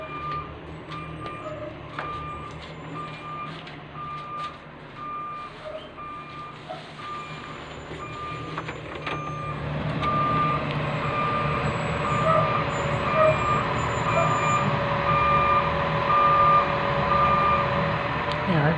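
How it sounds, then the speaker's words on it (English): A steady series of electronic beeps from one end of a house repeats at an even pace over a continuous mechanical hum that grows louder partway through. "can you hear the beeping noise coming from this end of the house?"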